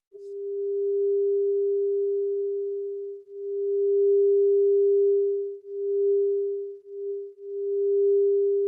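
A steady synthesized pure tone whose loudness swells and dips irregularly under slow noise modulation, sounding alone and fairly quiet.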